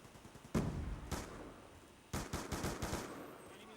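Shots from the FN FAL rifle in the multiplayer shooter Black Ops 2 ring out as separate sharp single cracks, then a quicker burst of several, fairly close over a quiet background.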